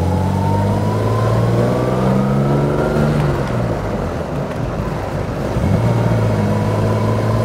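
A 1960 Jaguar XK150 3.4 SE fixed-head coupe pulls through its gears, the engine note climbing, dipping at a slow gear change and rising again, loud and close from inside the car.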